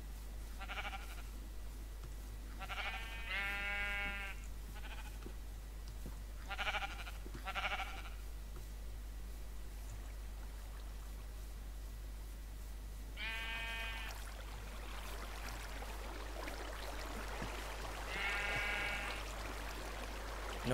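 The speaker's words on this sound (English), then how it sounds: "Oh my god, I'm sheep." Sheep in the Minecraft video game bleat in several short, separate calls spread over a quiet stretch, some clustered in pairs, against a faint steady hum.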